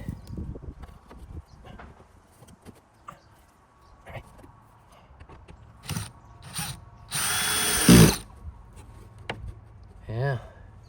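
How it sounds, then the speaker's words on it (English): A power drill driving screws into lath strips whirs in a few short bursts, with one louder sustained run near the end, under quiet intermittent talk and handling noises. "This time I'm going to use my power drill to speed up the process"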